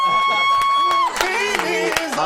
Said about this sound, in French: on applaudit pour les deux artistes